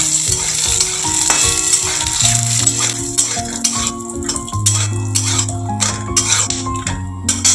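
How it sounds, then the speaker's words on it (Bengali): Peanuts frying in ghee in a pan for puja khichuri, a loud close sizzle with repeated scraping and clinking of a spatula against the pan as they are stirred. "একটু বাদাম ভেজে নেব।"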